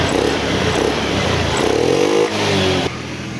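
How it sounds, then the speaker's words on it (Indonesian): Honda Scoopy scooter engine starting and running, a close, loud mid-pitched engine rumble that revs up and falls back, then drops to a steadier idle at the end, no talk over it. "saat kontak on, motornya kita hidupkan enak-enak saja ya"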